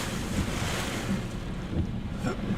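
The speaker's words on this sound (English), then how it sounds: "that's probably the strongest gust we've had yet" Hurricane Nicholas drives hard wind gusts and crashing surf onto Surfside Beach, Texas, a loud, steady roar of wind and waves with heavy microphone buffeting.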